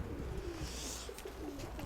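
A gray pigeon coos softly at a home loft, a short low murmuring call repeated over steady background noise.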